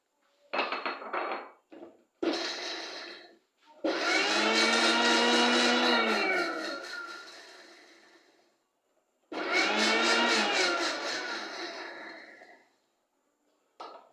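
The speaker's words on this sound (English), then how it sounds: "So I grind it" An electric grinder works through ingredients for Nigerian white soup (ofe nsala), starting with a few short stuttering pulses and then running in two long, loud whirring bursts separated by a pause.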